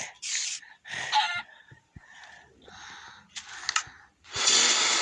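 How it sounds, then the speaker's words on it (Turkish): Bursts of chicken clucking and squawking from a Minecraft-style game come one after another, fairly loud and close, ending in a longer noisy squawk. "Tavuk."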